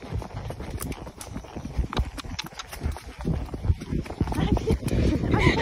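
Rhythmic clip-clop of horse hooves trotting on the ground, steady and close, with people talking over it.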